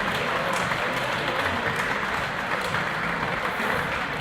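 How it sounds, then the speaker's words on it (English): Applause from both teams and spectators at a women's netball match as an injured player is helped to the bench; a steady, moderately distant wash of clapping that holds throughout without pause. "So some applause from both teams here."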